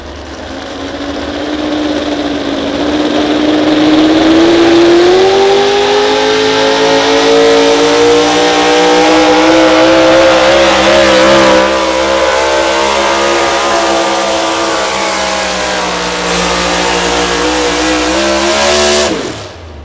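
A modified 4x4 pulling truck with a Stroker Ford engine roars at full power down an outdoor pulling track, loud and close, its pitch rising steadily as it climbs through the revs before cutting off abruptly at the end.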